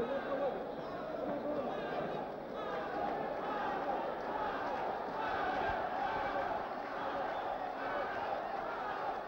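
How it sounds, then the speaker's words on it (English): Boxing crowd at a title fight chanting the champion's name, a dense roar of many voices rising and falling in rhythmic waves, mixed with general arena hubbub. "Crowd behind the champion, Harold Gray, chanting the name Harold."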